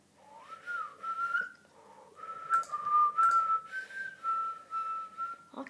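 A person whistles a melodic tune in sustained rising and falling phrases over several seconds, clear and close with faint background noise.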